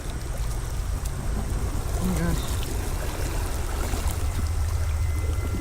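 Water rushing steadily beneath a bridge at night, a continuous broadband flow with low rumble filling the whole stretch, while people talk and exclaim over it nearby.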